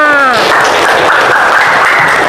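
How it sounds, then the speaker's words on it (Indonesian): A school class applauding together in an Indonesian science lesson, a dense steady wash of clapping filling the room, loud and close, after a brief fading voice at the start. "sekarang tepuk tangan dulu untuk kita semua"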